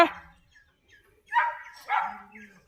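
A dog barks on a road at night, a few short barks heard at moderate distance with quiet gaps between them and no voices over them.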